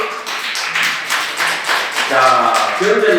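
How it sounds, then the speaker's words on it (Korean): A short burst of hand clapping from a small audience at a Buddhist lecture, with brisk overlapping claps mixed with voices speaking. "박수."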